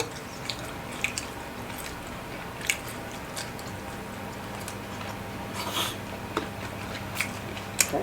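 Giant tako squid tentacles are chewed up close, with soft wet squishing and repeated sharp bites and smacks spaced irregularly over a quiet background.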